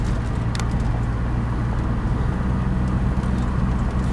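A Saab car with new spark plugs accelerates smoothly, a steady low engine drone with road noise heard from inside the cabin, continuous and fairly loud with no speech.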